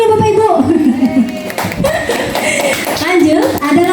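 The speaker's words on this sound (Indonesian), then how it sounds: "tepuk tangan dulu Bapak Ibu" A roomful of teachers clapping at an Indonesian training session, the quick scattered claps mixed with loud, close speech and some chuckling.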